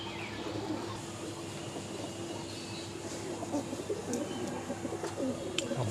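Pigeons coo at a busy pigeon market in Uluberia where Red Jacobins and other breeds are sold, soft repeated coos over a constant crowded murmur with faint clanks.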